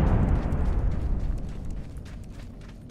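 A frag grenade going off in Apex Legends, a loud deep boom at the start that rumbles and slowly decays across the whole stretch, with no talk over it.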